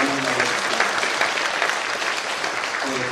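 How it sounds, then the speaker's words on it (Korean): Loud, steady applause from a church congregation during a Korean worship service, a dense wash of clapping filling the room for about three seconds without a break. "우리 하나님께 영광의 박수 크게 올려드리겠습니다."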